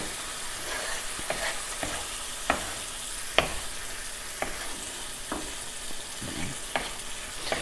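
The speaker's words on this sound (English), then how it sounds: "you want to stir it up until it's a uniform mixture" Jamaican-style curry chicken is stirred in a pot over a steady sizzle, close and clear. A spoon scrapes and knocks against the pot at irregular intervals, and no one speaks.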